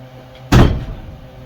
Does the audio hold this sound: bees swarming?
no